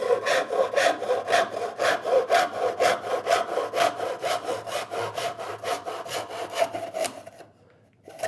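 A hand saw cuts through a piece of wood, about an inch thick, in a steady back-and-forth rhythm of close, rasping strokes that stop near the end, leaving quiet.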